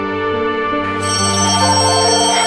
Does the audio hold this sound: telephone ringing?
yes